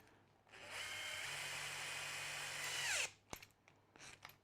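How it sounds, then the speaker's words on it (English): A power drill bores a hole through the top of a lathe cart, a loud, steady whirring run of about two and a half seconds that rises in pitch before stopping, followed by a few short clunks and handling noises. "Once I've drilled this hole, I've undone this whole top from the base."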